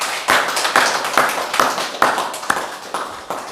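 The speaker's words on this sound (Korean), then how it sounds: "다시 한 번 더 환호작약 하나님께 박수로 영광 돌리겠습니다" Church congregation clapping together during a worship service, sharp rhythmic claps landing roughly every half second in a steady unified beat, fairly close and loud.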